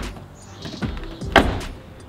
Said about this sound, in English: I'm gonna have to open the door to get it started.